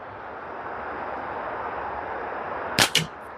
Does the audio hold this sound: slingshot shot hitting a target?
yes